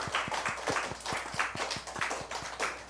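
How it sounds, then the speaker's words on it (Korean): A church congregation at a Sunday worship service claps together in a quick, steady, evenly spaced rhythm, crisp hand claps close by with no talking. "우리 은빈이에게 박수 한번 쳐주십시오."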